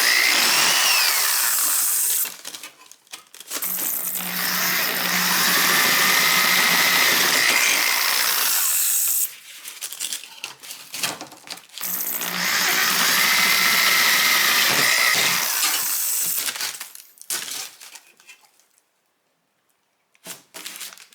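Power drill fitted with a 3/16 step bit boring into small stock during a 1977 Camaro Z28 stereo install, two sustained high whining bursts of several seconds each with short pauses between, close and loud.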